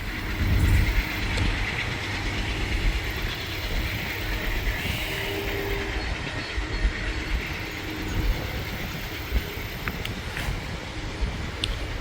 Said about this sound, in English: I'm gonna get a good shot of this eastbound train whenever it comes through